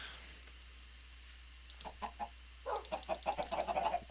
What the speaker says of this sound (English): we have the chicken.